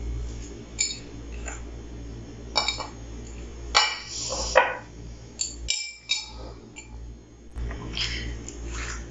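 Homemade instant kheer mix is poured into an airtight jar up close, with intermittent clinks, knocks and rattles of the container and utensil over a quiet background hum.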